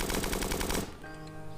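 Rapid automatic gunfire from a weapon in the video game Starbound rattles loudly for just under a second, then cuts off into a quieter game soundscape.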